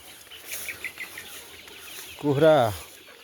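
Chickens pecking at grass outdoors give soft scattered clucks, then one bird lets out a loud drawn call up close near the end.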